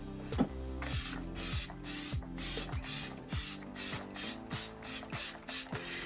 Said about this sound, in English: I'm gonna spray my face with some Fix It and Forget It